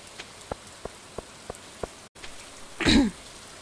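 Rain falls steadily on the beach in Stardew Valley, a soft continuous patter with several evenly spaced ticks, followed by a brief louder rough burst near the end.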